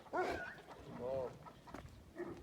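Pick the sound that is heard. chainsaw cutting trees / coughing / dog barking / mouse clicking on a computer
dog barking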